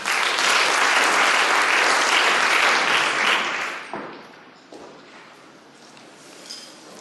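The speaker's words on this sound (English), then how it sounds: "Round of applause for Catherine." Loud audience applause at a conference talk on emerging tech and creativity, a dense burst of clapping that fades after a few seconds into scattered claps and room noise.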